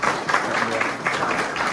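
An audience breaks into brisk applause, a dense wash of clapping that stays fairly loud throughout the short moment.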